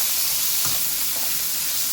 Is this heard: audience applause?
no